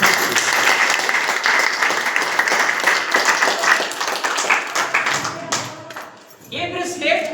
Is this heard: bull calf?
no